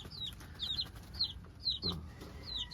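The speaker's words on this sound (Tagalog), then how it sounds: "may mga sisiw din pala si Chawot" A hen with her chicks makes soft, close clucking sounds, and high peeping chirps repeat in short bursts every half second or so over quiet rural background noise.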